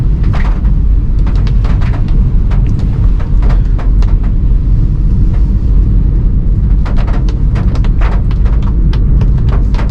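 A car cruises smoothly in third gear along a narrow road in the rain, with a loud, steady low rumble of engine and tyres and scattered light ticks of rain throughout.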